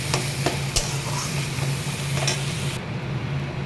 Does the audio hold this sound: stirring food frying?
yes